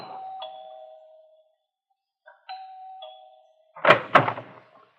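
A door chime rings in an old radio drama, two clear, sustained tones, then a pause and two more tones, followed by a pair of sharp knocking thuds.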